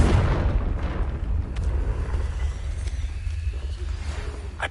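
A deep booming fire-curse explosion from the Confringo spell in Hogwarts Legacy, loud at the start and rumbling away into a fading low roar with scattered small crackles.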